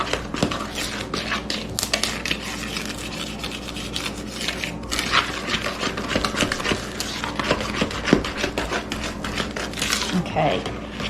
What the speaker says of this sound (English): You need a good sturdy, stiff spoon because it turns into a really stiff batter.